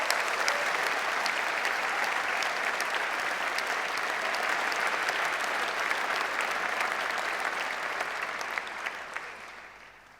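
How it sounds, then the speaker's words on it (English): A graduation ceremony audience claps for the musicians: a long, steady wash of applause that fills the room and stays strong before thinning slightly toward the end. "We'll just have a round of applause for our musicians."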